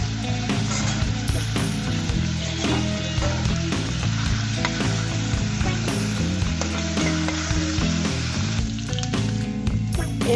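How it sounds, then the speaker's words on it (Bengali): Onion and garlic sizzle steadily in hot oil, a dense continuous crackle with occasional stirring scrapes and clinks, close and loud throughout with no talking. "এখানে আমি তেল বসিয়ে দিয়েছি, দিয়ে দিলাম পেঁয়াজ আর রসুন"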